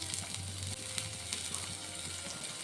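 Chopped ginger, fennel and cumin seeds sizzle and crackle in hot oil in a frying pan, a steady close frying hiss with small pops throughout.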